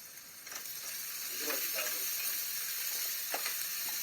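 Onions sizzle steadily in hot oil, a continuous crackling hiss with occasional stirring scrapes, close and moderately quiet.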